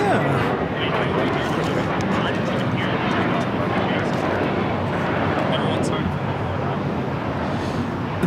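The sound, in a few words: American Airlines Airbus A321 taking off at LAX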